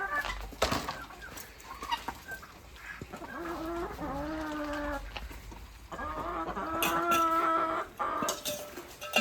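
Farm chickens cluck and squawk in uneven bursts close by on farmland, with a few drawn-out calls rising over a busy outdoor background.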